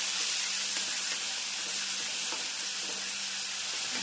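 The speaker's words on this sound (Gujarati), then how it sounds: "સાબુદાણાની ખીચડી, બટેકું ટમેટું વઘાર્યું" Potato and tomato frying in a hot tempering for sabudana khichdi, a dense steady sizzle and hiss with faint stirring scrapes, close up and without talk.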